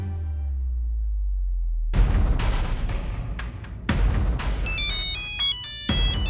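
A phone's electronic ringtone for an incoming call plays as a high, tonal melody near the end, amid loud booming, percussive hits and a low humming start.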